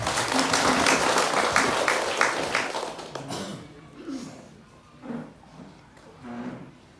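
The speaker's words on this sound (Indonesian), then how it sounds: "Mari kita berikan aplaus yang meriah." Audience applause at a community health event in Tunabesi, a dense burst of clapping that fades after about three seconds, followed by quieter room noise and scattered thuds.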